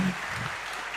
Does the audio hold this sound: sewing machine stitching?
no